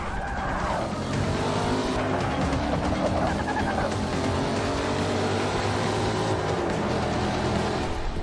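Race car engine in Forza Motorsport, loud and sustained with rising and falling revs through gear changes, tires squealing and skidding over the top, no voices.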